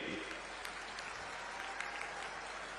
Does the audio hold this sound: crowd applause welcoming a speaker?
yes